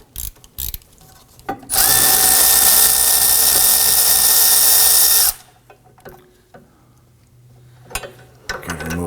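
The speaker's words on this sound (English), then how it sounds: "We are going to go ahead, loosen and remove that completely." Power tool spinning off a bolt on a 2005-2009 Subaru Legacy during rear CV axle replacement: a loud, sustained whirring run of several seconds, with clanks and handling noises before and after.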